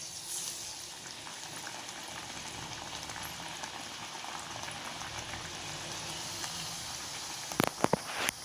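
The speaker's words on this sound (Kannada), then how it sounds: "ಈಗ ಎಣ್ಣೆ ಹಾಕ್ತೀನಿ ನೋಡಿರಿ" Oil heating in a pan for frying rice nippattu, giving a continuous dense bubbling sizzle close by, then a few sharp clinks near the end, with no talking.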